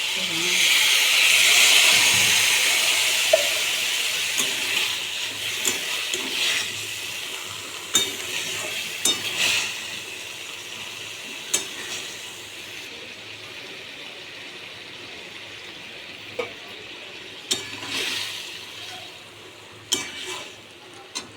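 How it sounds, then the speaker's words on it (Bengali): Water poured into a pan of vegetables, an Indian vegetarian dish of mushrooms, potatoes and taro, sets off a loud broad sizzle that fades to steady frying, with scattered sharp clinks of utensils against the pot. "এবার একটু জল দিয়ে দেবো"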